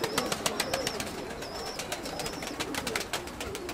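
Pigeons coo repeatedly in a loft, low soft calls layered with sharper chirps and bird noise throughout, fairly close and continuous.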